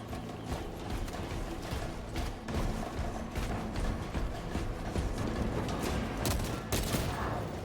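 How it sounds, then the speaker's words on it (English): Dense, continuous gunfire in the Warhammer 40,000 Space Marine 2 video game, with overlapping rapid bursts and heavy low rumble that stay loud throughout and no talking. "who's shooting at me?"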